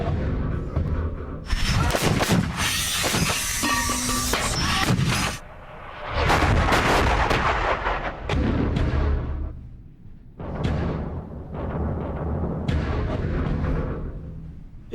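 Artillery guns firing on a Korean War battlefield in 1951, recorded near a bunker: a series of heavy, booming blasts roughly every two to three seconds, each with a long rumbling tail, loud and close.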